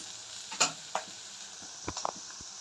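Ginger paste frying in a pan while fish curry is cooked, giving a faint steady sizzle with a few soft spoon taps and scrapes, close and quiet, with no talking.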